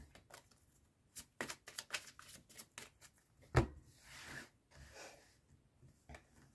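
A deck of tarot cards is cut and handled at close range, giving soft riffling, shuffling and tapping sounds with one sharper knock midway, fairly quiet against a still room.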